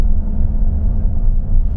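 Steady low engine rumble from inside a car towing a heavy caravan up a steep hill on the way to a campsite in Austria, continuous and close, with no voices.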